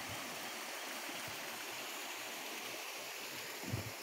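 A small stream rushes steadily past an old water mill on a Santa Bárbara mill trail in Asturias, a constant broadband wash of flowing water with a brief low thump near the end.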